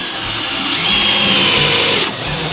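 A power tool drives a screw during car repair, a steady whirring motor that swells in the middle and stops near the end, close and loud.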